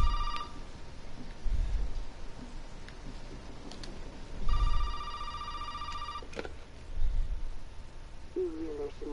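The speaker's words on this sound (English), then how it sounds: "phone's ringing" An old telephone in The Baker Family Fun Hour game rings in two bursts of bright trilling bells, each about two seconds long, with low thuds and background noise between them.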